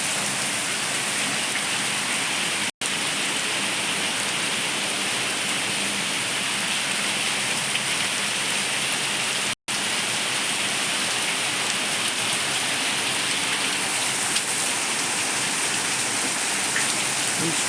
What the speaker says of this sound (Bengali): অঝরে জল পড়ে যাচ্ছে।